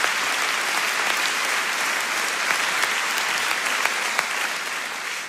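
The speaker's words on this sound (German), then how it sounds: "Komm, geben wir unserem Herrn mal einen richtigen Applaus." Audience applause at a talk, loud, dense and continuous, a full room clapping steadily for several seconds before it begins to fade at the end.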